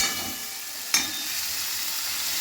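Chopped onion sizzles steadily in a little oil, with a brief sharp scrape of stirring near the start.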